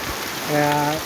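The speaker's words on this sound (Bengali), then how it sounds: "এই মুহূর্তে আমাদের গাজীপুর টঙ্গীতে বৃষ্টি হচ্ছে" Steady rain hiss in Tongi, Gazipur, fills the short stretch, with a brief voice-like hum rising over it near the end.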